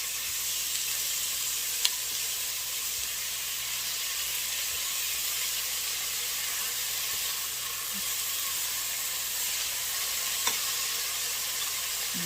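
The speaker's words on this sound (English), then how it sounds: "now I'm just going to let everything cook down while I wait on the rice" Chicken wild rice soup cooks down in a pot, giving a steady, even simmering hiss with an occasional faint click and no talking.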